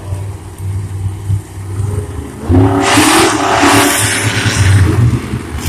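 Monster trucks at the start of a race roar as their engines rev up, a loud, sustained mechanical growl that swells sharply partway through.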